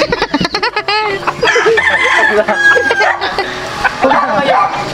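A rooster crows loudly nearby with some clucking, while people talk and exclaim around it.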